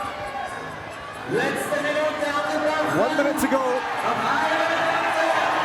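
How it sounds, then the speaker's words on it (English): An indoor crowd at the Saas-Fee Ice Stadium ice climbing World Cup whoops and cheers. The noise swells and stays loud while an announcer talks over it. "The crowd arching him on. This is a fantastic performance, incredible performance. And the noise here in the Saas-Fee Ice Stadium is incredible."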